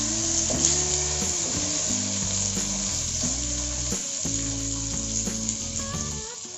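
Spicy masala kinnathappam fries in a pan after being flipped, a steady loud sizzle with crackles running throughout beneath a melodic music track, with no talking.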